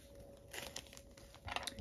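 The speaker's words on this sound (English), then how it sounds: "I'm going to take some copper flashaboo, and I'm going to cut off about 20 or so" Scissors snipping copper flashaboo tinsel fibers for fly tying, a few quiet crisp crinkly cuts close by over faint background hum.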